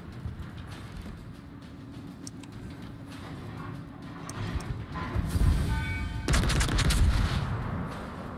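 The warship Karl XIV Johan in World of Warships fires its secondary batteries in rapid crackling bursts, then its main guns join with heavier, louder booms in the second half.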